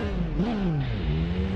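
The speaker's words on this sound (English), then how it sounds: "First time riding a Triumph Street Triple." A Triumph Street Triple in the motorcycle racing game RIDE on PS4 revs up and settles, its engine tone rising then falling away in a smooth sweep, steady and fairly close.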